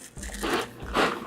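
Close bites into a crisp Thin Mint Girl Scout cookie, two loud crunches about half a second apart, with no talking over them.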